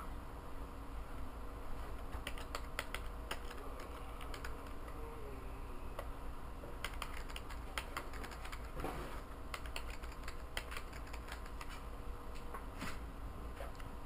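Password being typed on a computer keyboard while setting up Linux on a PS3, with quick irregular key clicks in short bursts over a steady background hum, close and fairly quiet.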